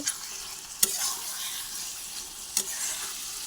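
Tomato and spiced mutton masala fry and get stirred in a pan, a steady soft sizzle with two sharp spatula scrapes, no voices.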